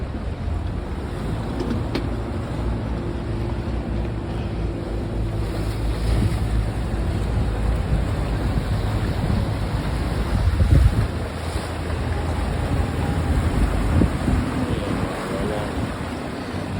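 Boat traffic on a Venice canal, steady low engine rumble and lapping water with wind noise on the microphone, continuous throughout with a slight swell partway through.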